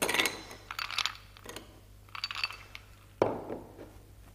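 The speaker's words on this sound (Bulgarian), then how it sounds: "И след това ще добавим леда, който е по желание, зависи от чашата." Ice cubes clink and drop into a glass while a mojito is built, three separate bursts of sharp clatter, close and fairly loud, with no talking.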